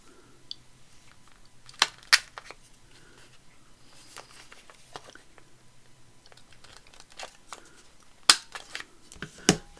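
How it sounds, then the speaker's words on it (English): A corner rounder punch with a 10 millimeter radius cuts the corners of an envelope, giving a few sharp, crisp clicks and crunches, with two close together early on, another near the end and faint rustling of paper between them. "I want to just round the corners. I'm going to use the 10 millimeter one."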